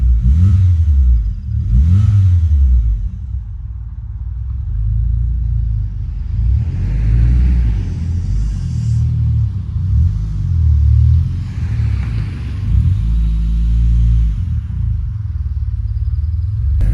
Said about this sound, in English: It's got a heavy lifter click, you can hear it.